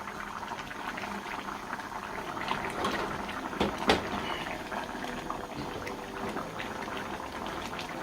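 Hilsa fish and sweet pumpkin curry simmering in a pan, a continuous low bubbling and gentle boil with a couple of brief louder pops, no talk.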